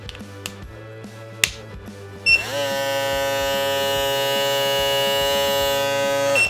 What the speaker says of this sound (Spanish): El cabezal de la mayoría o casi todas las afeitadoras es plástico, por ende va a sonar un poquito más alto